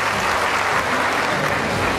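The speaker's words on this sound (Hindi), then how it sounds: "जोरदार ताली बजा के इनका स्वागत करें।" Loud, dense applause from a political gathering welcoming a party's state president, a steady burst of clapping filling the whole moment.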